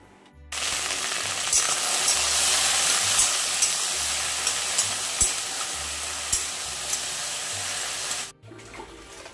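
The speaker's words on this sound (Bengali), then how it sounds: "তো এই যে এখন আমি এই ভাজাটাকে বসাবো এখন। তো সেই জন্য কড়াইয়ে তেল দিয়ে দিয়েছি।" Vegetables fry in hot oil in a wok, a loud, steady hissing sizzle that bursts in abruptly, carries on evenly for about eight seconds over a faint low hum, then cuts off sharply.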